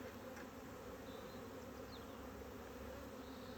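Quiet, continuous droning of honey bees flying around their hive, faint and even, with a couple of brief higher buzzes passing close; no speech.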